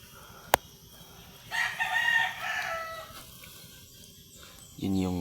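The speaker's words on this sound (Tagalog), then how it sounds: "Yung mga manok." Chickens on a rural property: a short crow-like call stands out briefly in the middle, with a sharp click early on and a burst of clucking near the end, against steady low background noise.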